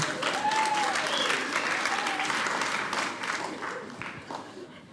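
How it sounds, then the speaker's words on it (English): Comedy show audience applauding, a full steady clatter of many hands that gradually thins and fades toward the end, with a few faint voices or whoops over it. "Round of applause for yourselves"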